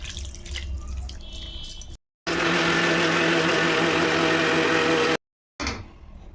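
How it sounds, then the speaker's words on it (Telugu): Water pours steadily into a mixie jar holding grated coconut, tamarind and salt for coconut chutney, a continuous splashing rush framed by brief silent gaps, close and fairly loud with no talk. "ఇదిగమ్మ వాటర్ వేస్తున్నాను"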